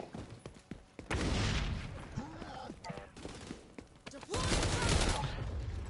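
Shotgun fire in a team shooter video game, several sharp booming blasts in quick bursts with loud sustained stretches of gunfire noise between them, close and dominant, while players talk briefly.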